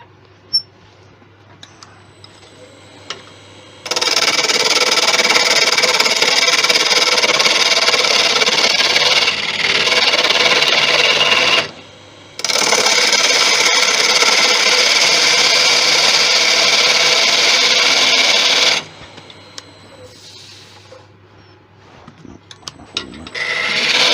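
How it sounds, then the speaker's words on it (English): A teak wood blank spins on a wood lathe while being flattened, a loud rough scraping and rasping hiss in two long bursts separated by a short pause, with quiet motor hum and small knocks before and after. "I'm going to flatten it off and put it in a chuck."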